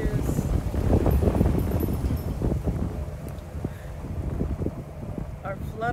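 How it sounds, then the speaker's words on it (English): Wind blows outdoors around a rag tree hung with prayer cloths, a loud gusty rush buffeting the microphone and swelling and easing throughout. "And today the wind is participating, cooperating."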